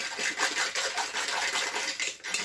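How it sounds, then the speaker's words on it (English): A whisk scrapes and beats muffin batter with sugar in a bowl by hand, a close steady rhythmic clatter of wire against the bowl with no talking. "Okay, I changed my whisk. This whisk is a lot nicer."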